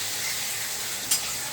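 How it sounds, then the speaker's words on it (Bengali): Curry leaves and a dried red chilli sizzle in hot oil as a tempering, a steady close hiss with a brief brighter spit near the end. "কারি পাতা ফোড়ন দিলাম। আর এই একটা শুকনো লঙ্কা ফোড়ন দিলাম।"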